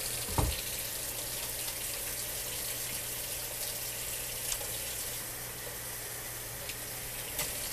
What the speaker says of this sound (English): always wash your hands with hot soapy water, as hot as you can stand it